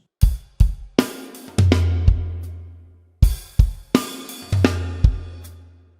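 A drum pattern, sharp hits with two deep, booming floor toms that ring and decay, played twice in a steady groove with no voices.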